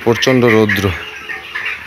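Chickens cluck in a shed during extreme heat, a few loud, close calls bunched into the first second, then fading into faint background noise.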